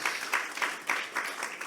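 Congregation applause during a Friday evening church service, many hands clapping in uneven surges at a fairly close, loud level.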